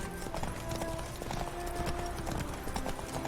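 Hooves of Roach, a horse in The Witcher 3, clip-clop at a steady gallop, close and continuous beneath game music and ambient noise, with a little speech faintly present.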